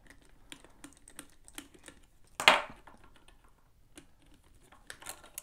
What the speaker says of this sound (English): Get my screwdriver here. We'll unscrew this compartment.